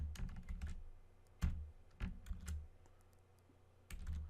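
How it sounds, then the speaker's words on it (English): Typing on a computer keyboard at a desk: bursts of quick, close clicking keystrokes separated by short pauses, fairly quiet overall with no talking. "so I'm typing up in this case"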